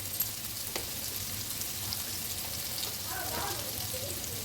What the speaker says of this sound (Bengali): এখন আমি চিকেনটাকে ভালো করে সেদ্ধ হওয়া পর্যন্ত রান্না করে নেব